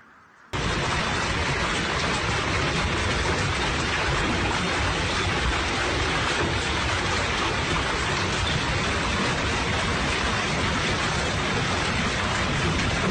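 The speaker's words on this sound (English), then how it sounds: "Torrential rain, accompanied by gale force wind, battered the region" Torrential rain driven by gale-force wind during a severe storm in Italy, a dense, steady roar of downpour that starts abruptly and continues loud and unbroken throughout.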